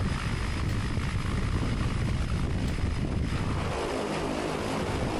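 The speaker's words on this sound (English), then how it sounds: "we begin to hammer on the reverse, engine spools up, exhaust starts producing boost to the right" Cessna Caravan floatplane docking at a remote wilderness lodge, its turboprop engine and propeller roaring loud and close, a steady broadband drone that shifts in tone as it spools up in reverse.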